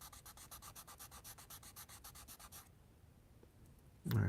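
Sheets of 240-grit sandpaper rub by hand over a Corvair part in quick, even back-and-forth strokes, close and fairly quiet. The strokes stop midway and are followed by a brief pause and a low thump.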